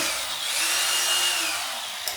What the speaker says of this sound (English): So he's not letting it drill for more than a couple seconds.